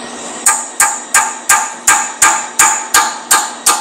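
Hammer tapping a chisel on an MGB GT engine during teardown, nine sharp metallic strikes at an even, steady pace, close and loud with brief ringing decay and no talk.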